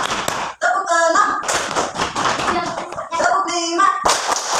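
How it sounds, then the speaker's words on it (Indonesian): Classroom of primary school children clapping hands together in counted beats, sharp repeated claps in bursts mixed with a teacher's voice calling out the counts. "Tepuk satu, tepuk dua, tepuk tiga, tepuk keempat, tepuk keenam"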